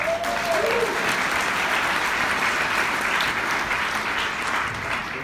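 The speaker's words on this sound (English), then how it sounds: "Another round of applause for him" A conference audience at the 20Books Vegas 2017 event breaks into sustained, dense applause that holds steady for several seconds at close range without fading.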